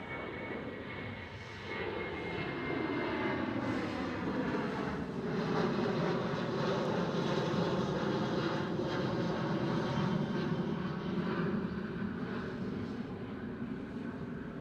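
A KLM Boeing 737 at Amsterdam Schiphol roars past, its engine noise rising after a couple of seconds into a loud, sustained whine with sweeping tones that slowly shift as it moves, no voices.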